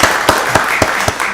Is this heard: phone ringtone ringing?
no